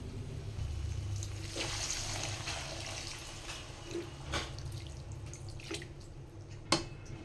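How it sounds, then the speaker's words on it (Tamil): Water trickles and drips into a cooking pan at a low level while making egg masala gravy, with a few brief louder splashes and clinks over a steady background hum. "இப்போ நம்ம கொஞ்சம் தண்ணி ஊற்றிடலாம். இப்போ தண்ணி சேர்த்துக்கலாம்."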